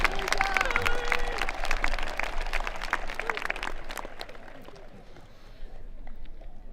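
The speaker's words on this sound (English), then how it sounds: "how about a nice round of applause for all those family members" Audience clapping at a 2022 high school career and technical center commencement ceremony, a dense, steady round of applause from a large indoor crowd that gradually thins and fades toward the end, with faint voices mixed in.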